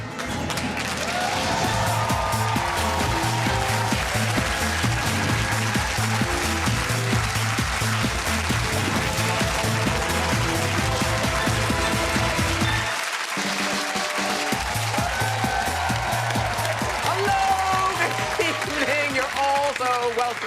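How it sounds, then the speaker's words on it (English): A few staff clap in an otherwise empty television studio, sparse steady applause over a rhythmic music track, with a short pause partway through before the clapping and music resume. "Clapping ourselves in an empty room with just a few sycophantic members of staff to cheer us along"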